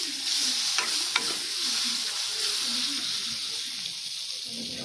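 Spices and chopped tomato fry in a pan while being stirred for an egg curry, a continuous sizzle and hiss with a couple of brief scraping strokes near the start.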